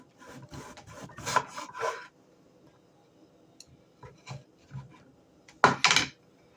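Knife slicing pieces off a pumpkin, several short scraping, rasping cuts in bursts with quiet gaps between, close up and fairly soft.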